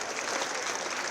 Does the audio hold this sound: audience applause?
yes